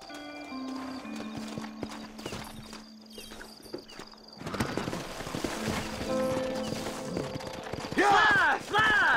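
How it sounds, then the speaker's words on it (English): Horse hoofbeats clip-clop in Red Dead Redemption, starting after a few seconds and building into a steady galloping rhythm, with a whinny near the end and voices talking over the action. "Horses are over here!"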